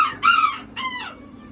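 An Azteca bantam rooster gives two short, loud, harsh calls close by, a brief pause between them, in an otherwise quiet setting.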